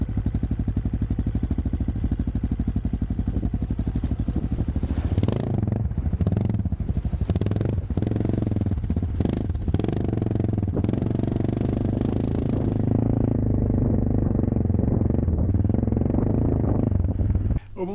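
An AJP PR7 motorcycle engine runs steadily and loud throughout, with rising and falling revs and some clatter mid-ride, ending abruptly.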